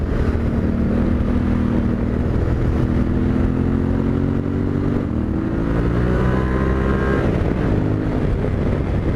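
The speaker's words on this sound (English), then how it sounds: "right there, fourth gear, I was pinned full wide open as I came up over that crest." Yamaha Ténéré 700 motorcycle held at full throttle in fourth gear, a loud continuous engine drone with rising pitch and heavy wind noise throughout.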